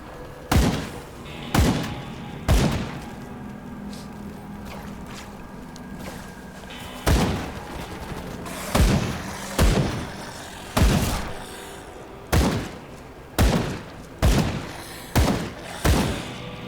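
Shotgun firing in Grim Dawn, about a dozen loud, booming blasts in uneven bursts, some fired in quick succession and others spaced apart, each with a short decaying tail.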